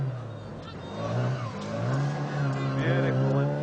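A classic Mini Cooper rally car on the Monte Carlo Rally drives past with a rising, revving engine note that swells and climbs in pitch, loud and close.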